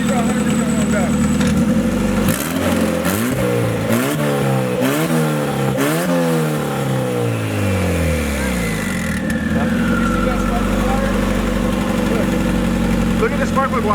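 A damaged, fully warmed-up car engine idles roughly and is revved several times in quick bursts, rising and falling in pitch before settling back to a loud, uneven idle; someone speaks over it.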